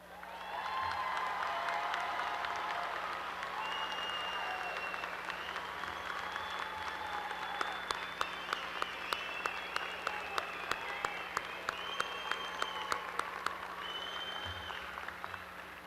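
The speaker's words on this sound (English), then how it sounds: "please stand so we can give them one more round of applause" Audience at a spring commencement ceremony applauding the graduates, steady crowd clapping in a large hall with a few scattered cheers, accompanied by a low electrical hum and a run of sharp, evenly spaced clicks partway through.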